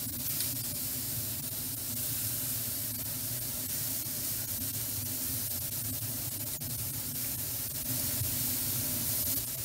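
Lamb backstrap frying in a pan, a loud, steady, close hissing sizzle that holds unbroken at an even level throughout.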